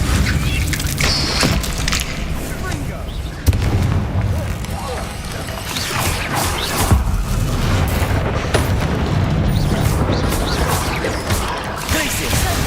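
Spell effects in Hogwarts Legacy, including Incendio, Glacius and Defendo, burst in a cavern as a rapid series of loud booms, crashes and cracking impacts, with spoken spell names over the din.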